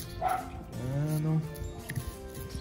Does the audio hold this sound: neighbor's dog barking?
yes